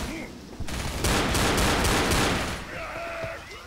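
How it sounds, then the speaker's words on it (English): Sustained bursts of rapid gunfire in the zombie shooter game Left 4 Dead, loud and dense for a couple of seconds before easing off, over a background of game ambience. "Oh, he's shooting at me."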